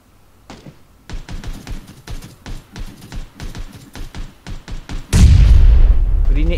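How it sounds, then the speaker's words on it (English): Grenade blasts in PlayerUnknown's Battlegrounds: a run of rapid thumping impacts followed by a loud, sustained booming explosion that rumbles and lingers to the end. "Grenade guys."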